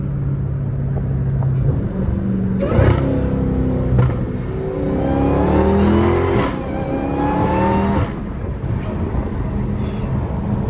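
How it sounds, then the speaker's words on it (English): A Dodge Challenger Hellcat Redeye revs repeatedly, rising and falling in pitch with a deep, rumbling exhaust, loud and close throughout. "my exhaust sounds pretty good too, but yours has a little bit bigger"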